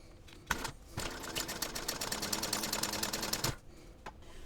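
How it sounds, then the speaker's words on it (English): A sewing machine stitches a fabric pocket with a 1/4 inch seam, giving about two and a half seconds of fast, even mechanical pulses bracketed by clunks as it starts and stops, with no talking. "And now I want to sew this using a 1/4 inch seam allowance."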